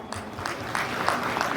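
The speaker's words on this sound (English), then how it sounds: "Let us welcome her with a big round of applause." A school audience applauds at a Republic Day celebration, a dense, steady wash of clapping held at moderate level for under two seconds with no voices standing out.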